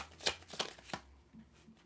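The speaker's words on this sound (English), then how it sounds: "So let me get one more shuffle in." A deck of tarot cards riffled and shuffled by hand in a few quick, close bursts, with softer card rustles trailing off at a quiet level.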